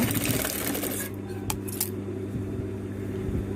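A sewing machine stitches a fabric face mask, its steady motor hum and rapid needle chatter running close and loud for about a second, then dropping to a quieter whir with light clicks.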